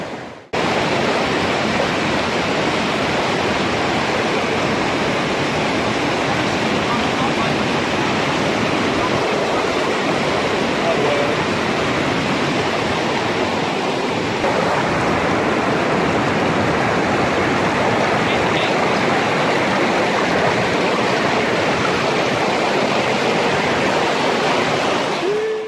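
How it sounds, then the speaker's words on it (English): A mountain stream rushes beside the Pamir highway in a dense, unbroken roar of flowing water, loud and close, steady for the whole stretch with no voices over it. "Found this stream."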